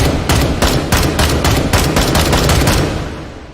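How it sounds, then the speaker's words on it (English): An M4-pattern assault rifle in the VR game Hot Dogs, Horseshoes, and Hand Grenades fires a rapid string of about a dozen loud, sharp shots. The shots ring close and clear, then trail off into a fading echo. "M4 patterned assault rifle"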